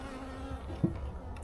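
A steady close honeybee buzz hums throughout, with a few brief louder passes near the end, around a full hive box being moved to a new apiary.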